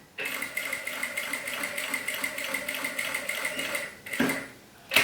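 A sewing machine stitches a seam on a thermal bag in a fast, even, rattling run, close and loud, pausing briefly before a short final burst.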